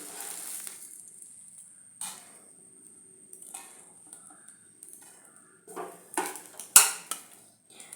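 A cooked omelette of egg, onion, carrot, curry leaves and green chilli is moved into a dish: sparse scraping and clinking of a utensil against metal cookware, with a louder clatter near the end.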